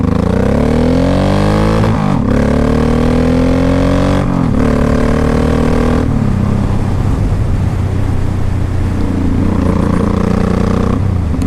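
A 2005 Honda Shadow Sabre 1100 motorcycle being ridden, its engine loud and steady throughout, with rising revs through several gear changes and brief drops between shifts, wind rushing in the background.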